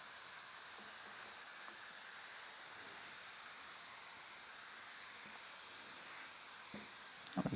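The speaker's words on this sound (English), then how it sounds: "I'm going to mist this down pretty good." A spray mister wets sunflower microgreens sown in coir with a steady, faint, continuous hiss of fine spray and no talk.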